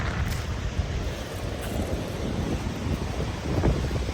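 Pacific Ocean surf washes on a rocky shore at sunset, a continuous broadband rush with strong wind buffeting the microphone, no voices.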